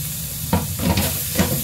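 Meat sautéing in a pan while balatong with meat is being cooked, giving a steady close sizzle with a few brief louder bursts of hissing as it is stirred.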